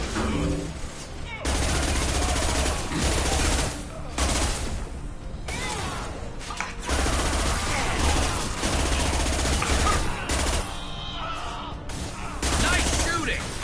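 Sustained gunfire in Mass Effect Legendary Edition: dense bursts of shots and weapon fire that run nearly unbroken across the clip, with a few short lulls and loud, close impacts.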